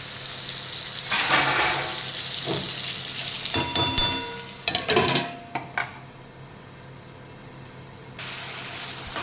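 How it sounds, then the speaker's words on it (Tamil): Tomatoes fry in a covered pan, giving a steady soft sizzle broken by a few sharp clanks of the lid and utensils in the middle. No voices are heard. "இப்போ தக்காளி நல்லாவே வதங்கிடுச்சு"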